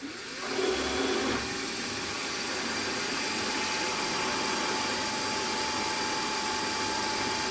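A 3.8mm drill works into a block of O1 steel on a mini lathe under power feed, giving a steady motor whine and grinding hum that holds evenly throughout after a brief louder start, close and alone.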